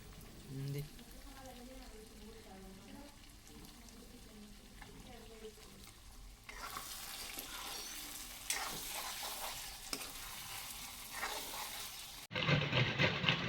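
Mutton frying in a pan and being stirred in a home kitchen, a low steady sizzle with scraping stirs that grows louder and brighter partway through, with a burst of running water near the end.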